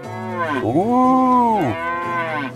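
A single loud cow moo, long and drawn out with a rising then falling pitch, comes from farm livestock in the medieval village game Medieval Dynasty.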